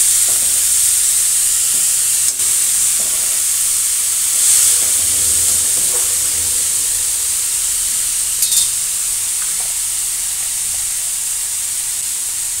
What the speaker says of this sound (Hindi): सब्जी को डाल के अच्छे से मिक्स कर लेंगे